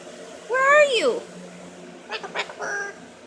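A pet bird gives a loud, rising and falling whistled call up close, then a few shorter chirps, while a person speaks softly to it in a home.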